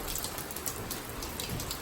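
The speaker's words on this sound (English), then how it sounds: "hopefully the rain stops soon." Steady rain falls hard during hurricane season, heard from inside a house under roof repair where water is leaking into the bedroom, a dense continuous patter with no talking.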